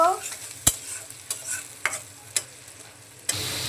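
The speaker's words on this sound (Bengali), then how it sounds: "পেঁয়াজগুলো লাল করে ভেজে নেব" Chopped onions sizzle in hot oil with bay leaf and green chilli, a steady frying hiss broken by several sharp scrapes and clinks of a spatula stirring the pan.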